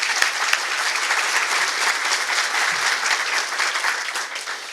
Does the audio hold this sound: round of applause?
yes